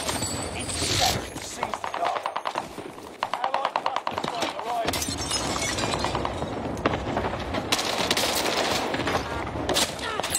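PPSh submachine gun in Call of Duty Cold War, rapid-fire bursts rattling in dense, fast strings with game impacts and effects around them, a voice talking over the gunfire.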